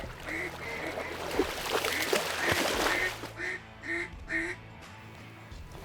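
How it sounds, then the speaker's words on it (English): Mallard ducks quacking during an Arkansas duck hunt, a run of repeated nasal quacks, some from a duck call, with nearby splashing and a steady hum underneath. "Ducks are coming in goofy"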